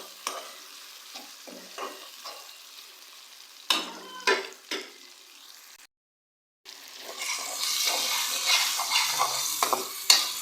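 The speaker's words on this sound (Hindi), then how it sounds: "टमाटरों को हम लोग अच्छी तरह से मिक्स करेंगे।" Stirring tomatoes with minced meat in a frying pan, scattered spoon scrapes and clicks over sizzling, a brief silence, then louder, steady frying with continued stirring; close and with no talk.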